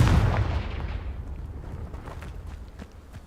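A Confringo blast spell from the Hogwarts Legacy game goes off with a heavy, booming explosive hit at the start, then a rumbling, crackling tail that fades away. No one speaks over it.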